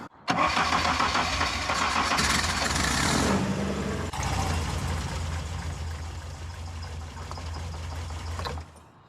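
A car engine with a misfire, only two of its four cylinders firing, cranks and catches, then idles steadily and roughly at close range before cutting off near the end, with no talk.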